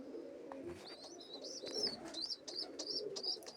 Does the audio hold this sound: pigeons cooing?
yes